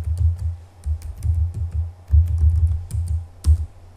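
Brisk bursts of computer keyboard typing while entering network switch configuration commands, close and clear with uneven rhythmic clusters of key clicks and short pauses.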